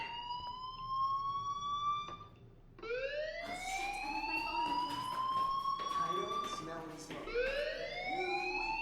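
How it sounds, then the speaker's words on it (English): A rising, wailing electronic alarm repeats in sweeping tones inside a school in the video game Life is Strange, loud and continuous, with several cycles building one after another. "Hey, do you hear that fire alarm? That means you should be outside."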